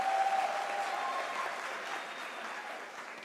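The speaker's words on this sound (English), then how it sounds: "can you give those people a round of applause?" Audience applause at a University of South Africa autumn graduation ceremony, a dense, steady wash of clapping from a large crowd that holds at an even level throughout.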